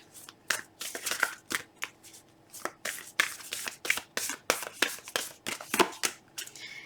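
Oracle cards shuffled by hand in rapid riffling bursts separated by short pauses, crisp and close, with no talking.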